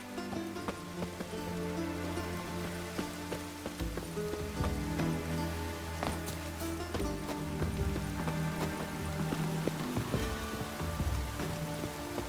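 Rain falls in the Witcher 3 video game, a steady pattering wash with clopping horse hooves and background game music layered over it.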